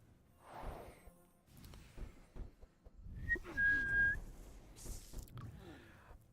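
A person whistles a few short, wavering notes, with a brief sustained tone near the middle, amid shuffling and clattering noise.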